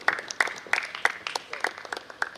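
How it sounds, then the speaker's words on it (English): Audience applause at an Indian business conference in Kolhapur, a moderate crowd clapping in a steady patter of distinct sharp claps close to the microphone, without anyone speaking. "Large applause for him."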